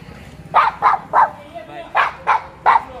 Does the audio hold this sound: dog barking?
yes